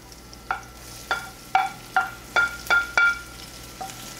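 Garlic and onion sautéing in a pan, with a spatula scraping and knocking against the pan in about seven distinct strokes over a soft background sizzle, close and alone.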